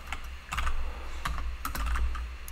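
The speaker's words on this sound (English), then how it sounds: "let's see how we type meta." Keys clack on a computer keyboard in a quick irregular run of close taps over a low steady room hum, with no voice over them.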